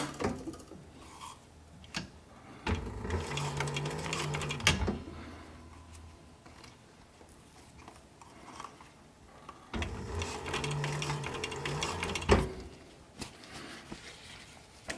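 A sewing machine stitching a short brim cap runs in two bursts of fast mechanical whirring and clatter, separated by quieter pauses with handling taps, close and moderately loud, with no speech.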